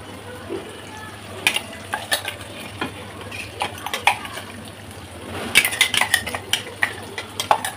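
A spatula stirring a chepa shutki dried-fish mixture frying with onions in a pan over medium-low heat, irregular scraping clacks against the metal over a faint steady sizzle, growing busier toward the end.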